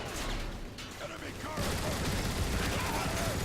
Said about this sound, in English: Giant Gatling gun on Cybertron for no reason